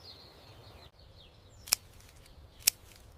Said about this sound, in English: I prune a tree